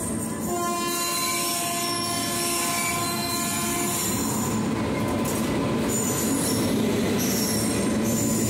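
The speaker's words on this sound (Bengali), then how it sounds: "নিউ জলপাইগুড়ি স্টেশনের 5 নম্বর প্ল্যাটফর্মে আমাদের ট্রেন ঢুকে পড়ছে।" The Kanchenjunga Express pulls into platform 5 at New Jalpaiguri station. Steel wheels squeal loudly with sustained tonal whines and a horn-like blare early on, over a steady rolling rumble of railcars, with no talking.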